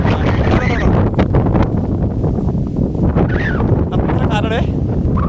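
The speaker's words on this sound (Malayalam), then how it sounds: "അവിടെ കാറ്റാണ്" Strong wind buffets a bare hilltop rock, roaring steadily and rumbling right against the microphone. A voice talks over it throughout.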